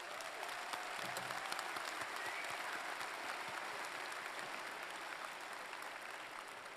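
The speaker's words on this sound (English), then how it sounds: "I think that deserves an applause of gratitude." Graduation audience at a university commencement ceremony applauding, a steady dense wash of many hands clapping from a large crowd, sustained at even loudness throughout.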